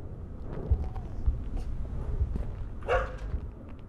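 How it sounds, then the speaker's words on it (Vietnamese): A dog barks a few times in the horror video game Something In The Well, short low thumps spread across the clip with faint ambient noise and no talking. "đây con chó các bạn ạ, đây là chó chó chó"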